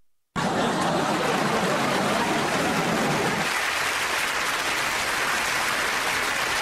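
A hand clap sound effect played on a radio show comes across as a dense, continuous applause-like wash of noise. It begins abruptly, stays loud and steady throughout, and no voices are heard.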